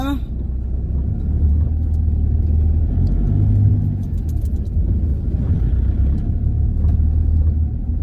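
An auto rickshaw rides along a road with a loud, steady engine rumble and road noise throughout, while people talk over it.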